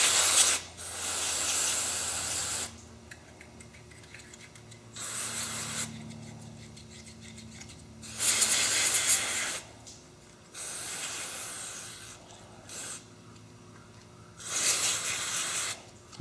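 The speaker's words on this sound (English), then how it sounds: "So let's try some of this brake cleaner." An aerosol can of brake cleaner is sprayed onto an 8 ball slider's bearings in about five loud, close hissing bursts, each lasting a second or two, separated by quieter gaps.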